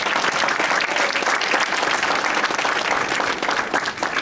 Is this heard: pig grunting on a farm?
no